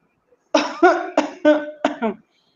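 A deep, heavy voice coughs in a rapid burst of about five or six rough, throaty barks, close and loud, followed by silence.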